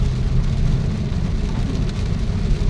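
Heavy typhoon rain from Typhoon Enteng on the Montalban road, a dense, steady roar of downpour with low rumbling wash, constant and loud throughout with no voices.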